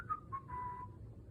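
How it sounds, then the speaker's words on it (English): A person whistles a brief, soft tune of a few sliding notes, alone and fairly close. "You guys don't need whistling."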